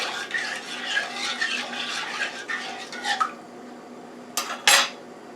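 A spoon scrapes and clinks around a pot of stewed chicken and rice in a home kitchen, a series of soft stirring scrapes followed by a few sharp metallic knocks near the end, with no talking.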